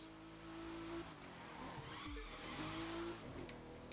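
F1 car in The Crew 2 racing up Pikes Peak, Colorado, a faint engine tone shifting pitch while tires skid and squeal, with a brief low thump midway, no talk.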